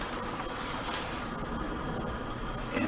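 A vehicle rolls past overhead above a storm drain culvert, giving a continuous, loud, reverberant rumble with a hollow rattling character that swells slightly near the end.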